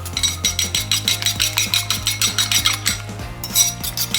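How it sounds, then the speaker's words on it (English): A whisk beats garlic granules and chili powder in a bowl, giving a fast, steady run of metallic clinks and scrapes against the bowl, close and rhythmic, with no voices. "Give it all a good whisk together"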